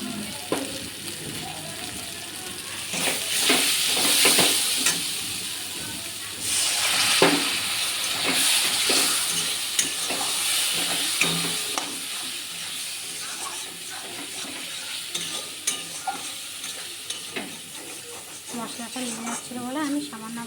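Fried potatoes being stirred into cooked spice masala in a pan for a soybean dhoka curry, giving steady sizzling and hissing with scraping stir strokes, under ongoing talk.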